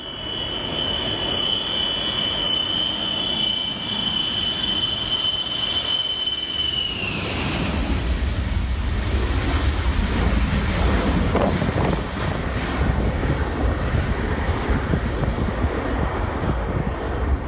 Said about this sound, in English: This overloaded plane used every inch of the runway and barely took off at the last second